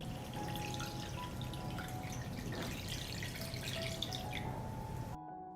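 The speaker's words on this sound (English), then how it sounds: "I pour water up to the height of the lid." Water is poured into a pot of jarred sweet cherries set on a cloth, filling it to lid height. A steady, continuous splashing rush runs close and alone, then stops abruptly.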